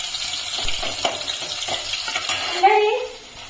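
Onion tempering sizzling in a pan for dal, with a steady hiss of frying broken by a few clinks and stirring scrapes close by, the sizzle briefly swelling toward the end.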